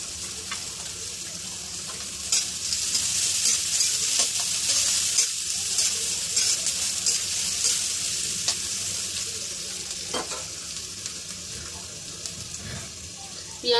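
Onions frying in oil in a pan, a steady bright sizzle close by, with intermittent stirring scrapes and clinks throughout.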